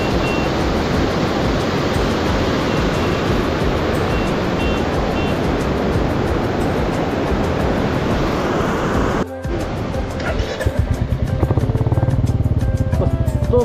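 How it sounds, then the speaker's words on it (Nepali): White water rushes steadily near Dupcheshor Mahadev in Nuwakot, a loud continuous roar of churning river that shifts in tone after a brief break near the end. "यस्तो मजाको पानी छ यस्तो मजाको पानी"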